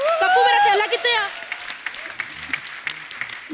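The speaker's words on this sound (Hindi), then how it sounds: "एक बार दादियों के लिए तालियां बजा दो" Studio audience on a comedy talk show applauds for the grandmothers. A voice is heard briefly at the start, then a dense, steady wash of clapping continues throughout.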